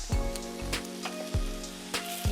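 Vegetables sizzle on a Blackstone griddle while being cooked for Philly cheesesteak stuffed peppers: a steady, close hiss with a few sharper crackles and pops rising out of it.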